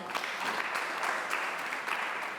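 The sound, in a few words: round of applause for Sam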